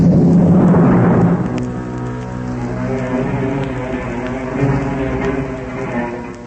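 A thunderstorm with heavy rain opens on a loud rumbling crack of thunder that rolls away into a steady wash of rain, set as a storm at sea aboard a ship.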